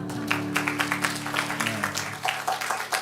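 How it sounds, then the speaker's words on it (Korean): A church congregation applauds at the end of a hymn, a steady wash of many hands clapping at moderate distance, with a sustained organ or keyboard tone lingering underneath for most of the clip. "노래 끝나니까 박수를 치잖아요"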